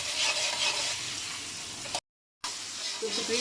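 Cumin seeds and garlic sautéing in a pan over a low to medium flame, giving a steady broadband sizzle that cuts out briefly to silence and then resumes, close up, with no speech.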